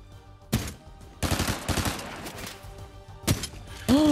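Gunfire in the video game Fortnite crackles in separate bursts: a sharp shot, then a longer string of rapid shots, another single crack, and a final blast ringing out at the close, with quiet gaps between.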